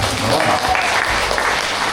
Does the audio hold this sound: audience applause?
yes